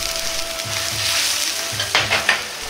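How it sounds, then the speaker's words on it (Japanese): Snow peas cook in a pot of boiling water with salt and a little oil, giving a steady bubbling hiss, with a few sharp clinks and stirring knocks against the pot near the end. "沸騰したお湯に絹さやを入れ茹でます。"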